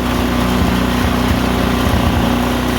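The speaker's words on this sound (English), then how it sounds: "the transmission is running all the time. The belts or the auger do not." An Ariens Deluxe 28 SHO snowblower engine runs loud and close at a steady idle, a continuous buzzing drone with a low rhythmic chug underneath and no talking.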